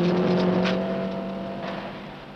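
A 1968 rally car driven by Hannu Mikkola at the 1000 Lakes Rally in Finland roars hard over gravel roads, its loud, tonal engine drone gradually fading as it pulls away, with faint clattering mixed in.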